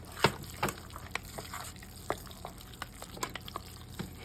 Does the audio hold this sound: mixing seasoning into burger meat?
yes